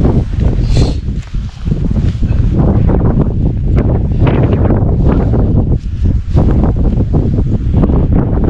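Loud, constant wind buffets the microphone with heavy roaring gusts throughout, no voices, a dense rumbling rush that barely lets up, at a wild campsite in Northumberland.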